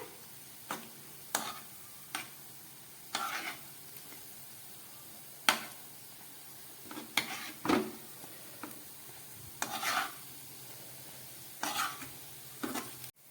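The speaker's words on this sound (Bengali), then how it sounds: "একদম গ্যাস কমিয়ে পনিরের পকোড়াটা ভেজে নিচ্ছি।" Paneer pakoras frying gently in oil over low heat, a faint soft sizzle broken by intermittent clicks and scrapes of stirring, with no talking.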